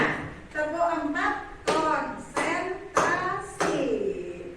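Hands clap in short bursts during a classroom clapping game, with each burst falling between spoken calls from a leader, giving a steady call-and-clap rhythm.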